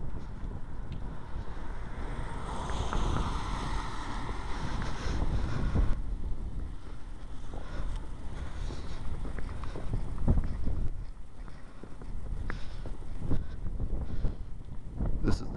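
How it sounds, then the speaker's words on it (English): Strong wind buffets the microphone on a freezing, icy winter day outdoors, a steady rushing roar with gusty bursts that stays loud throughout, with faint street sounds behind it. "it's very windy"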